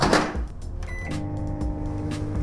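A microwave oven starts up with a few clicks and a beep, then settles into a steady low hum close by, running for five minutes.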